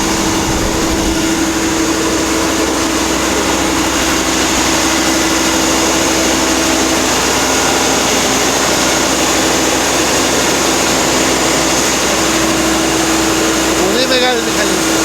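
A large 200 kW generator engine on a farm runs with a constant, loud droning hum and a steady tonal whine, heard up close and unbroken throughout.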